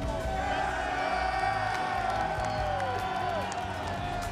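Basketball crowd cheering and whooping in a large arena, a dense roar of voices and scattered claps with shouts rising over it, sustained throughout and tapering slightly near the end.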